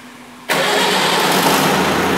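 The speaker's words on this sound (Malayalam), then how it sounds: "അപ്പോൾ എഞ്ചിൻ, നമ്മുടെ എഞ്ചിൻ സ്റ്റാർട്ടായിട്ടുണ്ട്." An engine on a test rig cranks and fires up abruptly, then settles into a loud, steady close idle, with no talk over it.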